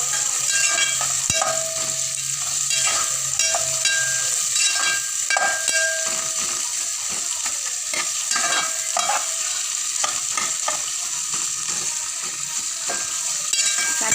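Three medium onions, sliced lengthwise, sizzle steadily in a pan for chicken rice, a continuous hissing fry with occasional stirring scrapes and clinks, close and constant throughout with no talking.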